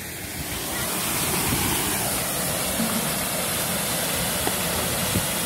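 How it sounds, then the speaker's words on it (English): A waterfall at a scenic spot on a family outing roars as a steady, loud broadband rush that holds evenly throughout, with a few faint clicks and no voices. "this place, the beautiful place, we just love the waterfall"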